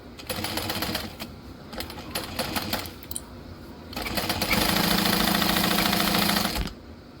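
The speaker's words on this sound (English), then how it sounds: "Now we're going to sew across the top to catch our zipper sandwich." A domestic sewing machine stitching across the top of a handbag over a zipper: bursts of rapid mechanical clatter with short pauses, then a longer, steady run of fast stitching before it stops. Close and clear, with no talking.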